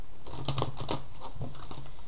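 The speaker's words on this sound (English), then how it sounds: "So I'm going to go ahead and shuffle the deck" A deck of Archangel Oracle cards is shuffled close up, a run of quick, crisp riffling taps and flicks in uneven bursts with no talking.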